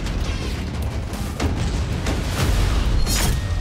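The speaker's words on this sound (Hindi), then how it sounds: "Cluster bomb." Cluster bomb explosions in the Russia–Ukraine war come as a loud, harsh string of booming blasts and cracks over a deep rumbling roar, several bursts crowding one another across a few seconds.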